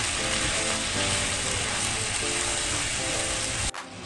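Butter sizzles in a hot pan with beef fillet and mushrooms, a dense, steady frying hiss close up that continues without talk and cuts off abruptly near the end.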